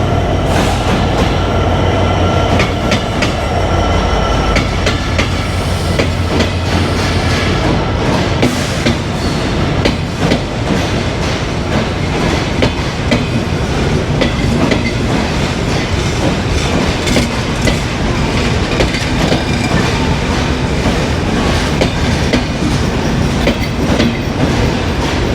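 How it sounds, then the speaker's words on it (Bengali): Chitra Express passenger train hauled by a 6627-series locomotive rolls in, a loud, close, continuous rumble with rhythmic clickety-clack of wheels over rail joints and occasional metallic squeal, with no voices. "চলে আসলো 763 নম্বর চিত্রা এক্সপ্রেস ট্রেন"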